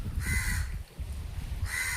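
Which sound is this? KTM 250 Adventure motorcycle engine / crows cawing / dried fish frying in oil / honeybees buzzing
crows cawing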